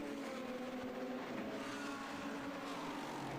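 A Lamborghini race car in an endurance race at the Red Bull Ring, its engine a steady, distant roar with a faint rising and falling pitch, under a constant wash of circuit noise.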